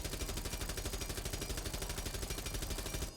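Rapid automatic gunfire in Rainbow Six Siege, one sustained burst of evenly spaced, close, loud shots rattling on for about three seconds without pause.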